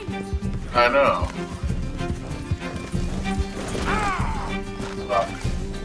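Horse hooves galloping in the video game Red Dead Redemption 2, a steady rumbling clip-clop running throughout under loud, urgent shouting and other game sounds.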